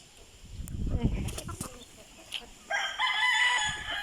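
A fighting rooster gives a short crow, followed by clucks and another sustained crow, loud and near, with faint background voices.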